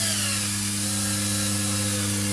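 A cordless drill drives a screw into a trailer's J rail, a loud, steady motor whine held close for the whole stretch with no talking.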